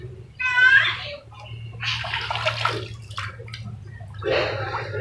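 Drumsticks and vegetables being washed by hand in a tub of water, with splashing and sloshing bursts near the mic while someone talks over it, and a low steady hum underneath.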